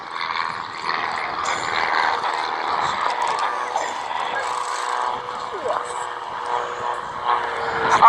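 Aerobatic display aircraft performing rolls and stall turns at Abingdon Airshow 2017, a steady distant engine drone carried across the airfield beneath a commentator's continuous announcements.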